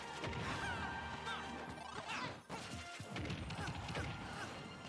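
Min Min repeatedly smashing Pit into the ceiling in a Super Smash Bros. match, a dense barrage of loud crashing impacts and whooshes over game music, with a brief dip midway before the hits resume.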